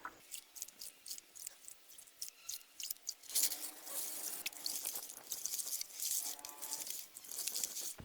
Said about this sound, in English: I'm trying to rinse out all the earth.